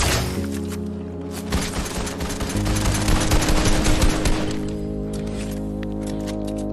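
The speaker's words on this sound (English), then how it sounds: "They're trying to shoot me from a far" Fortnite battle royale gunfire, a loud stretch of rapid automatic shots and cracks that thickens in the middle, layered over in-game music and effects, then eases to a steadier background.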